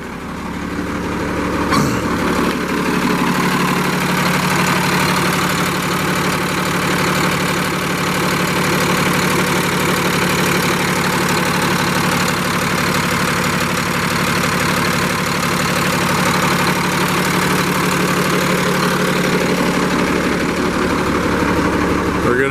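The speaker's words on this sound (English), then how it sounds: "We're gonna hop out, let you listen to the engine run." A 2011 Kenworth T370 truck engine idles steadily for the whole stretch, a loud continuous low diesel rumble with a constant hum and no change in pace.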